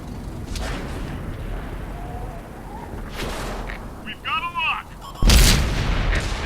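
A tank cannon in a tank video game fires one loud, close booming shot after a stretch of softer rumbling game sounds, with a voice talking beforehand.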